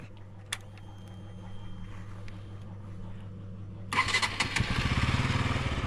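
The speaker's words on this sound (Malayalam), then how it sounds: "വേറൊരു ബാറ്ററി വെച്ചിട്ട് സ്റ്റാർട്ട് ചെയ്ത് നോക്കുന്നുണ്ട്." A vehicle engine with a suspected battery fault is started using a replacement battery: a low steady hum holds for about four seconds, then the engine abruptly cranks and catches, running loud and rough up close until the end, with no talking.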